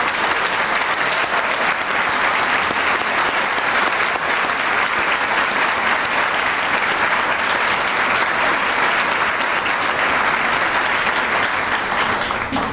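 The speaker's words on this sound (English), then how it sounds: "I think you deserve a round of applause." Sustained, dense applause from a large audience at a charity celebration event, steady and loud throughout with no pauses, filling the whole stretch without any talk over it.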